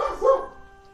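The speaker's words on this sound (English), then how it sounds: "what are you barking at, dude?" A dog gives a single short, loud bark up close, with a brief tonal yip that fades quickly and no one speaking over it.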